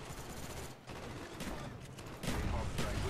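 A shotgun fires in Call of Duty: Black Ops amid busy, overlapping battlefield gunfire, with sharp, loud reports piling up near the end and a voice audible in the mix.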